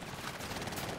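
A brief, continuous burst of rapid gunfire in the battle royale shooter Call of Duty Warzone, steady and fairly loud throughout with no voices.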